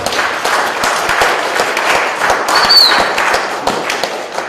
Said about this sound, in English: Please also give her a round of applause